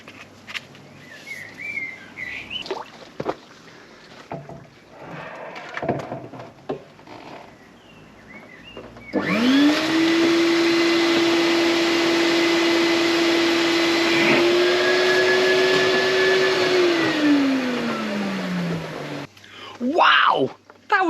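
A DIY venturi pump drawing air to fill a koi sky pond starts abruptly with a loud, steady whine and rushing airflow lasting several seconds before cutting off; quieter ambient sounds and birds come before and after.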